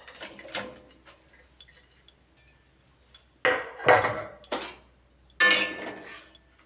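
A metal pot and utensils clink and clatter in a kadai while Maggi noodles are being cooked, giving a series of sharp irregular knocks and scrapes, with louder clashes toward the end and quiet gaps between them.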